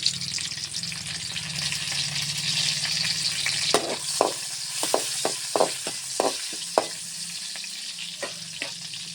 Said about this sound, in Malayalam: എന്നിട്ട് ഞാൻ ആ വറ്റൽ മുളകാണ് 2-3 ഇടുന്നത്.